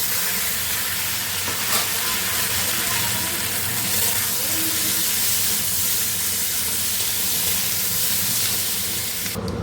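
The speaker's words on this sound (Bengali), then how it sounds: "তারপরে টমেটো কুচি আর কাঁচা লঙ্কাটা দিয়ে দিচ্ছি।" Chopped tomato and green chili added to sautéed potatoes in a hot pan for a thin Bengali fish curry, giving a loud, steady, close sizzle and hiss of frying that continues throughout.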